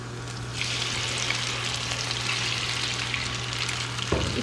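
Small chicken pieces coated in a cornflour marinade sizzle in a pan with oil, a steady close frying hiss that swells within the first second and runs on, with a brief clatter near the end.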